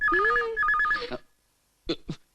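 A telephone rings with a warbling electronic ringtone in two quick bursts, followed by silence and two short, faint sounds.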